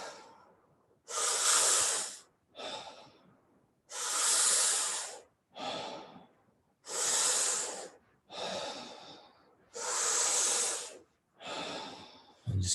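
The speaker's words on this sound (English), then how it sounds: "Deep breaths in, let it go." Deep breathing during a guided breathwork workshop: several long, loud, close inhalations and exhalations alternate in a slow, steady rhythm, each breath a breathy rush of air, with no speech.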